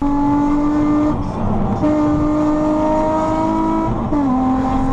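A BMW E46 car drives along steadily, its engine holding a sustained tone with a couple of brief dips as revs change, close and continuous, with no talking.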